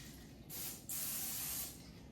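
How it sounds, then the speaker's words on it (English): Two bursts of cooking oil spray hiss onto sausages in an air fryer, a short one followed by a longer steady spray, close and fairly loud over a low background hum. "I'm just going to spray this top"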